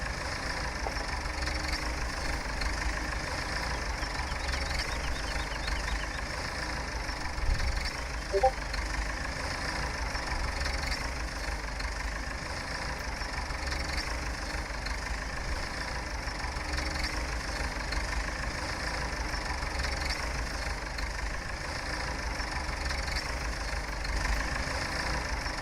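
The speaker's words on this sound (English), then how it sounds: "Stop the tractor there." Tractor engine idling in the Farming Simulator 17 video game, a steady low rumbling drone that holds evenly throughout with no talk over it.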